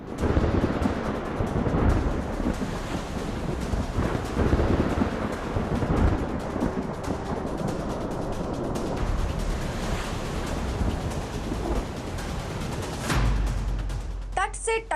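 Cyclone Yaas brings strong winds and rain: a heavy, continuous storm roar of gusting wind, rain and surging water, with rumbling bursts throughout.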